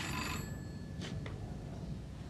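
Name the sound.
telephone ringing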